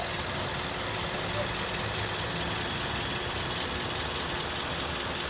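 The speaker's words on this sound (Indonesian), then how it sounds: "Untuk mesin dari mobil Sienta ini handal dan siap pakai tentunya." A Toyota Sienta family car's engine idles steadily and close by, a constant broadband rumble with no pauses, running evenly throughout.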